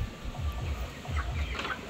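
Native chickens cluck softly in short bursts close by, a few low calls repeating over quiet background.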